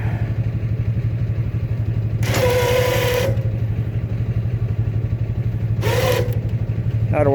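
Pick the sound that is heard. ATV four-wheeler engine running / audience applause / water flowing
ATV four-wheeler engine running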